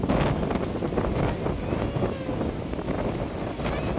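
Strong wind sweeps across Alibag beach, buffeting the microphone in a continuous loud rumbling roar with no voices heard.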